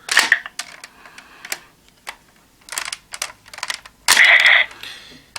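A Henshin Juu GabuRevolver toy gun being snapped closed with no batteries installed, giving a series of sharp plastic clicks and clacks, then a louder, denser rattling burst near the end, all close by with no talking.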